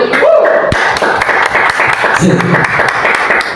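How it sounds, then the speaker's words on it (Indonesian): A church audience claps for Jesus in a burst of steady, crowded applause with some thumps, mixed with voices and room noise over a few seconds. "tepuk tangan buat Tuhan Yesus dulu"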